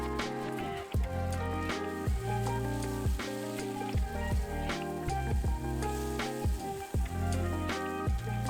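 Cold leftover rice being stirred and reheated with eggs in a hot pan, giving a steady close sizzle under repeated scraping and tapping of a utensil in an uneven rhythm, with no talk.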